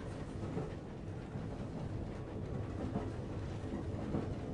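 The Hogwarts Express in a Harry Potter video game rolls along with a steady, continuous rumble of train noise and faint rail clatter, heard alone at a moderate level.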